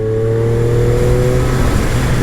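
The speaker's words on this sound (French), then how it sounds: "Le son du moteur est..." A Triumph Street Triple S motorcycle engine running, a loud, steady, close drone with a rising pitch as it revs, and no voices over it.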